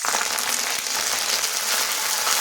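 Black mustard seeds and curry leaves fry in hot white oil in a wok, giving a steady, close, dense sizzle with no talk over it.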